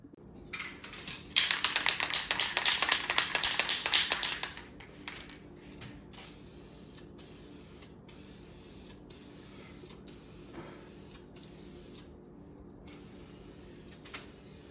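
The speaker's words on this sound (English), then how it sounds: "Okay, got the underside sprayed, 3 coats." Polyurethane finish sprayed onto a wooden child's step stool: a loud, close hissing burst of spray lasting a few seconds, followed by quieter ticking and clicking handling sounds, with no talking.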